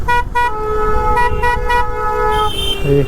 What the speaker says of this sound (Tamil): ஆக்சுவலாக ஹார்ன் அடிக்க பார்த்தீங்கன்னா நல்லா அமுத்தி பிடிச்சிடுறாங்க